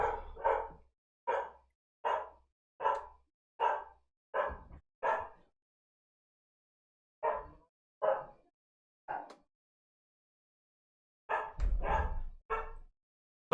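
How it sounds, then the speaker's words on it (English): A dog barks downstairs in a home, with about a dozen loud, sharp barks in quick bursts, then a pause, then a few more clustered near the end, with no talk over them. "Apologies for the dog."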